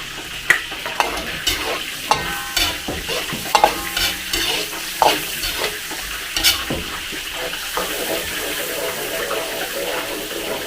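Onion sautés in a pan during Filipino home cooking, hissing continuously beneath sharp, irregular clinks and scrapes of stirring, with a wet, watery edge to the sizzle.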